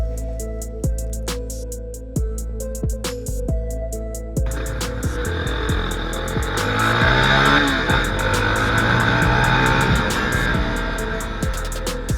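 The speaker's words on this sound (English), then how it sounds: "in this video I'm riding my friend's 2017 Jamco T" A 2017 Jamco T motorcycle rides through city traffic, its engine steady and close with a sharp rev as it pulls away, surrounded by loud broadband road and traffic noise.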